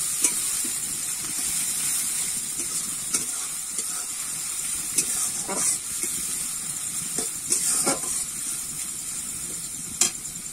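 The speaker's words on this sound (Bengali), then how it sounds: "পেঁয়াজটা আমি একটু ভেজে নেব।" Onion frying in a pan for a jackfruit kofta curry, a continuous close sizzle and hiss with occasional crackles and scraping stirs throughout, no voices.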